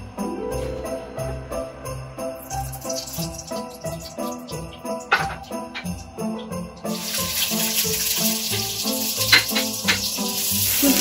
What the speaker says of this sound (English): let's saute the garlic and onion.